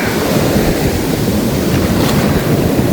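Big sea waves at Mirissa beach, Sri Lanka, roaring steadily in a dense, loud wash of surf with wind buffeting the microphone and no voices.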